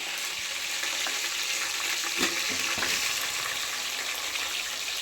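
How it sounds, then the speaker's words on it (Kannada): Ground ginger, garlic and onion paste frying in a pan, a steady broad sizzle with a few louder stirring scrapes and spits near the middle, close and continuous with no talking. "ಶುಂಠಿ ಬೆಳ್ಳುಳ್ಳಿ ಈರುಳ್ಳಿ ಒಂದಕ್ಕೆ ರುಬ್ಬಿದ್ವಿ ಇದನ್ನು ಒಂದು ಸ್ವಲ್ಪ ಹಾಕ್ಕೊಳ್ತಾ ಇದ್ದೀವಿ"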